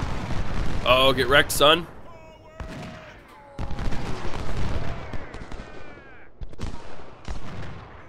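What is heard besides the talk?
Civil War troops firing in Ultimate General video game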